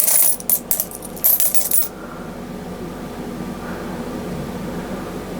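A tub of mixed world coins rattled and stirred by hand, bursts of bright metallic clinking for under two seconds before fading to quiet room tone.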